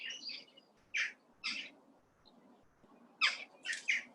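Birds, including a pigeon, calling outdoors in a leafy setting: a series of short, bright chirps in clusters, fairly close and clear, separated by quieter gaps with a soft background murmur.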